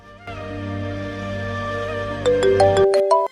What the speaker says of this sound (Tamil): இருந்தாலும் ஃபோன் பண்ணி கேட்போம்